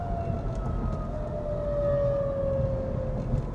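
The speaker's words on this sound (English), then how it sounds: "they're testing the tornado sirens" Tornado sirens being tested on a monthly Saturday in Macomb County, Michigan, heard from inside a moving car: a long, wavering tone drifting slowly in pitch, moderately loud over the low road rumble.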